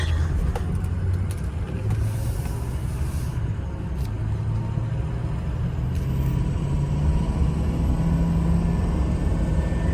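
A 2006 Ford F250 with the 6.0 Powerstroke diesel engine runs loud and close, a continuous heavy rumble held at a fairly even level with little rise or fall.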